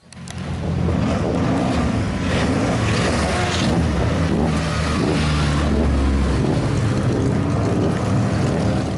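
Heavily tuned, modified stock race car on an Italian hillclimb slalom course, its engine droning loud and steady throughout with a rough low rumble and wind noise, no pauses.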